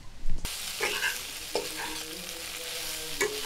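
Potato and pointed gourd curry is stirred and fried in a kadai, with a bright sizzle and scraping spoon strokes up close after a sharp opening clatter.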